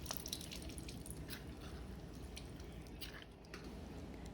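Lemon juice from half a lemon is squeezed into melted butter in a pan, giving faint wet squishing and light dripping over a low, steady background, with no talk.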